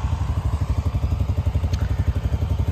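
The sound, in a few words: tractor engine running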